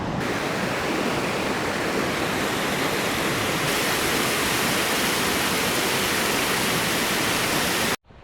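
A rushing mountain river at a backpacking crossing in Montana's Beartooth range roars as a loud, steady, broadband wash close by, then cuts off abruptly near the end.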